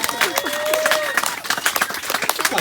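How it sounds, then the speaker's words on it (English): An audience breaks into scattered applause, with loose clapping and a few cheers under someone talking nearby. "Got some applause. The crowd's into this."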